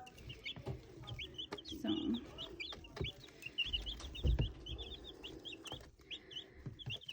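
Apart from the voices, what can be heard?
flock of backyard birds clucking and settling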